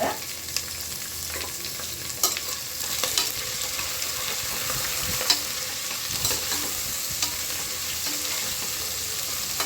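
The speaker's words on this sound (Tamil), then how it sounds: "ஒரு கொஞ்சம் கோல்டன் ப்ரௌன் ஆகிற வரைக்கும் நம்ம ஒரு 1 மினிட்லேருந்து 2 மினிட் வதக்கிக்கலாம்." Sliced onions sautéing in a pan toward golden brown for vegetable biryani: a continuous frying crackle broken by repeated spatula scrapes and stirs, close and fairly even throughout, with no talking.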